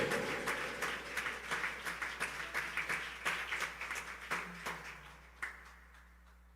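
Congregation clapping at a church service during a pastor's sermon, a steady rhythmic beat of hand claps pulsing evenly for about five seconds before fading out, with a few stray claps at the end.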